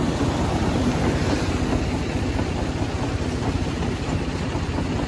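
A winnowing fan grading soybeans runs with a John Deere 5310 tractor close by, making a loud, continuous mechanical drone with a fast, regular rattling pulse and no talking.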